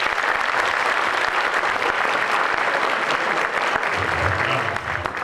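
An audience at a live stand-up comedy show applauds steadily and loudly for about five seconds, a dense wash of clapping from the whole crowd with a few voices underneath near the end.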